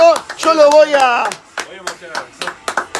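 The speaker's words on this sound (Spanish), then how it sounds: "¿Tenés que aplaudir acá?" Several sharp hand claps ring out in a room, spaced irregularly under and between Spanish conversation as people chat over a guitar-talk session.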